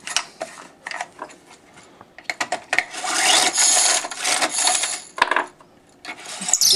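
A fired .223 Remington brass case is trimmed for reloading with a hand tool, giving metallic clicks, then a stretch of fast scraping, whirring cutting with short pauses and a few sharp taps near the end, close and loud.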